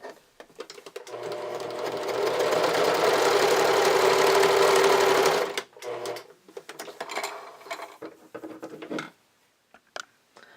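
Sewing machine stitching stretchy knit fabric with a twin needle runs in a sustained whirring, rapidly ticking burst for several seconds, then stops and gives way to shorter bursts and handling noises.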